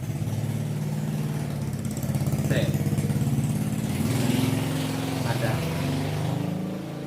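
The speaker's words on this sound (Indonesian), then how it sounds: "Ada suara motor lewat." A motorcycle engine drones past nearby in Batam, its note rising and falling as it goes by, fairly faint and sitting under a person talking.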